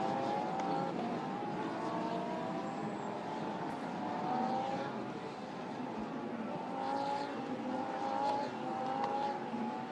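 Lamborghini Super Trofeo race cars circling the 4.6 km Barcelona circuit, engines droning steadily with rising and falling whines as the field weaves toward the first turn, heard at a moderate distance under a continuous roar.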